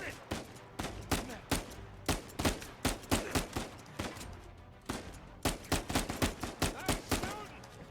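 Rapid gunfire in the video game Uncharted 4, loud bursts of repeated shots in uneven clusters with a few pauses, over a background of game ambience.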